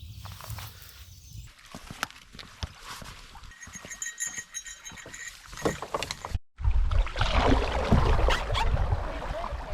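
Canoe paddles dip and stroke through the water on the Mississagi River, rhythmic splashes and drips close by, growing louder and fuller toward the end, no talk.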